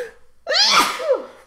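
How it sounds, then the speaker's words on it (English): A single loud, close human sneeze with a sharp intake and burst, followed by a short trailing exhale. "I'm going to sneeze."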